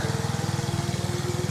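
A Westwood garden tractor engine runs steadily nearby with a fast, even, pulsing putter at a constant idle, loud and with no voices over it.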